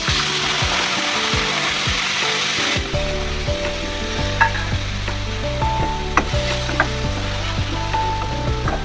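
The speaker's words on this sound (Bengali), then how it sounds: "এবার আমি কেটে রাখা টমেটো আর পেঁয়াজগুলো দিয়ে দেবো।" Chopped tomatoes and onions hit hot oil in a kadai for chicken do pyaza, with a loud sizzle that settles into steady frying and occasional stirring scrapes and clinks.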